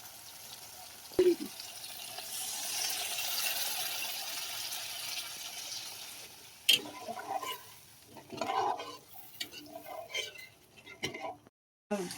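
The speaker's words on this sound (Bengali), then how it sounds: "এবার আমি জল দিয়ে দেবো।" Water poured into spice paste frying in oil for a fish curry sets off a loud hiss that fades to a softer sizzle, followed by clinks and stirring scrapes of a pot.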